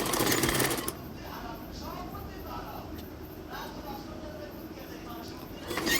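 A sewing machine stitches folded fabric along a salwar hem, running in loud bursts at the start and end with a quieter stretch of room noise and a voice in between.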